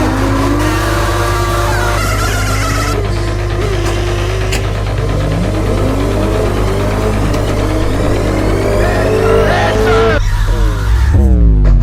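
Loud, steady engine drone of a cart driving in the game Roblox, with shifting revving tones and a constant low hum throughout, close and continuous.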